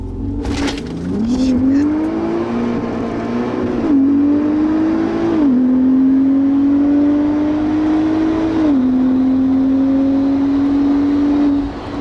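A 730 hp HGP Golf R Biturbo with an R36 engine accelerates hard from standstill to 200 km/h, its loud, continuous engine note climbing steadily and dropping briefly at each of several gear changes, close and with no talk.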